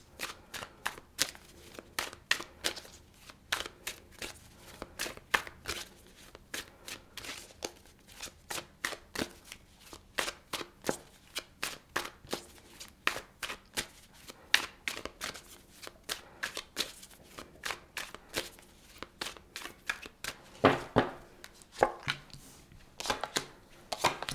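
Tarot cards being shuffled by hand, a steady run of quick riffling snaps and soft flutters that carries on close up for the whole stretch, with no talking.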